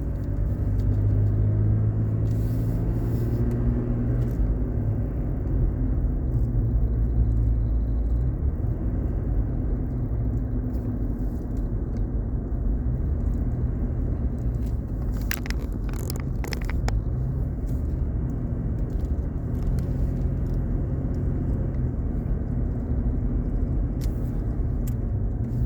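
A car climbs the hairpin turns leading up out of New River Gorge, its engine and road noise forming a steady low rumble throughout, with no voices over it.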